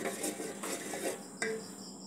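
Milk stirred in a metal pot as it boils for homemade sweet curd, a spoon scraping and clinking against the pan bottom in a steady close-up rhythm, with one sharper knock near the end.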